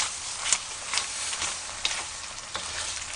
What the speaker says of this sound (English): So put those in there, and then you stir them all together.